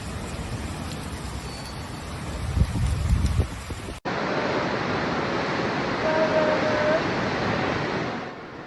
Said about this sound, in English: The gusts of wind were so strong that some residents thought it was even a tornado.